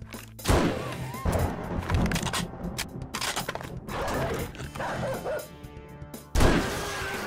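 A dog barks repeatedly in the survival video game 7 Days To Die, sharp barks in irregular bursts over a dense, loud background of thuds and mechanical game noise.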